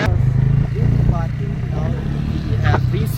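Motorcycle engine running steadily while being ridden toward the parking area at Chamundi Hill in Mysore, Karnataka, with people talking over the continuous engine hum throughout.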